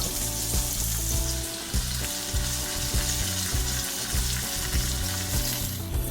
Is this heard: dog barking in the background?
no